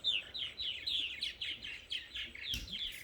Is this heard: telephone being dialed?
no